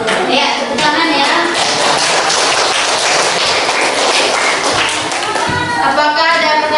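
Students in a classroom clap for a group that presented, loud close clapping and taps with children's voices, shuffling and a few thumps throughout.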